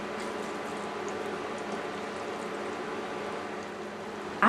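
Puerto Rican spaghetti sauce with ground turkey simmering in a pot, a soft, steady bubbling hiss that holds evenly throughout, faint and close, with no talking.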